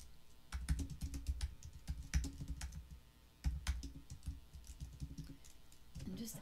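Rapid clicking of computer keyboard keys while billing details are typed in, bursts of keystrokes with brief pauses, fairly close and moderately quiet.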